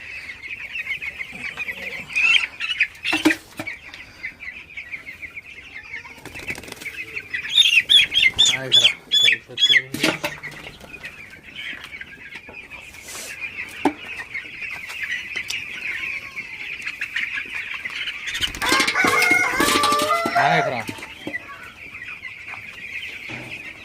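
A flock of broiler chicks clucks and chirps continuously, broken by bursts of loud squawking and flapping nearby.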